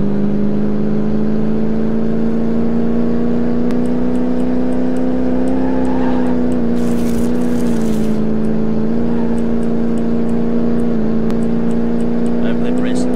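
A Chevrolet Impala engine in the Car Mechanic Simulator 2018 video game: a loud, steady droning hum that rises and dips slightly in pitch as the car speeds up.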